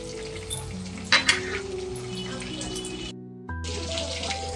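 Ginger paste, garlic paste and chopped green chillies fry in a kadai, a steady close sizzle and crackle with a couple of brief louder bursts, cutting out for a moment before resuming.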